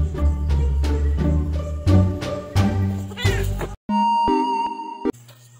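Game cat meows repeat over busy background sound, followed by a few bright electronic chime tones near the end.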